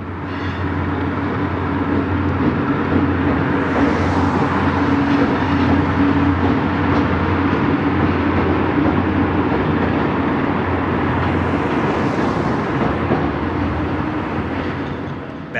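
GE B23-7 diesel locomotives on a Minnesota Commercial belt job cross Como Avenue Southeast in St. Paul. A loud, continuous rumble of engines and rolling wheels holds steady throughout, with a low droning hum underneath.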